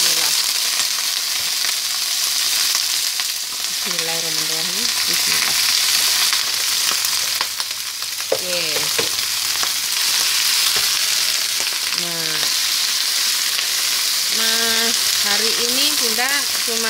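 Vegetable greens tossed into hot oil after the garlic has turned golden stir-fry with a continuous loud sizzle. Faint, wavering tonal calls rise now and then in the background.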